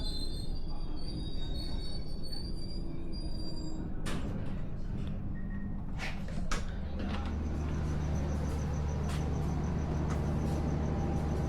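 An Indonesian commuter train at Banjar rumbling along with metallic wheel squeals and clanks, a low engine drone building as it gets underway.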